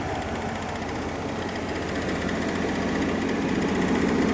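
The generator on a 2001 Tiffin Zephyr motorhome idles, powering the coach: a steady, close mechanical drone with a fine rapid pulse, holding an even level throughout with no talking.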